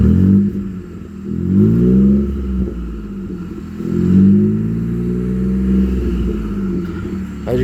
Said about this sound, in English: JFB 3-inch full bore exhaust installed on a 2016 Ford F150 EcoBoost.